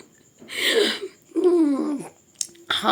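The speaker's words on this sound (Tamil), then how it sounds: "நல்ல ஒரு ஏப்பம்ல" A close, drawn-out burp that drops in pitch, surrounded by a few other short throaty vocal bursts and breaths.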